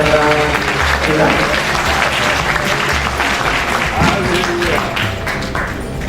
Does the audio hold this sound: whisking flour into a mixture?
no